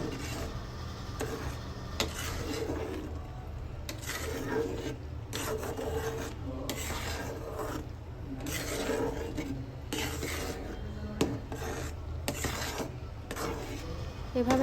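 A spoon steadily scrapes and rubs through thick jaggery rice pudding in a cooking pot, a continuous close rasping stir with no talking.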